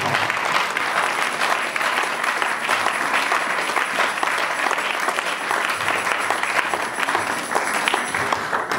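Congregation in a church service applauding steadily and loudly, a dense wash of clapping that holds for several seconds without letup.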